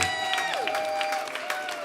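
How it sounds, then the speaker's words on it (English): Audience clapping at a Local/Live concert after a band performs their single: a dense patter of hand claps across the room, with faint sustained tones ringing underneath. "Clapping everywhere."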